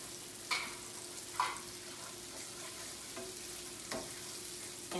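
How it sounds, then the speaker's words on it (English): Red and orange peppers with onion sauté in a pan, a steady soft sizzle with a few brief scraping stirs, no talking. "while we're sauteing the peppers and onions"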